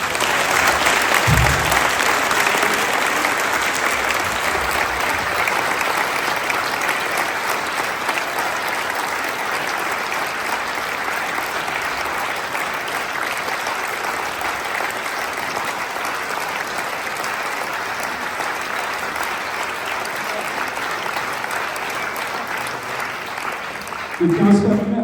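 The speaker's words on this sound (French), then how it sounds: "Je pense qu'on peut les applaudir." An audience at a concert of Irish music applauds in a long, sustained burst of dense clapping that holds steady for over twenty seconds before tapering at the end.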